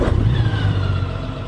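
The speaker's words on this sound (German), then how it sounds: "Auch beim Betätigen des N-Tasters für den Leerlauf springt der Motor an." Honda Gold Wing SC79 motorcycle engine fires up via its idle-stop system when neutral is selected, a close, brief start settling into a low, steady idle rumble with no talk.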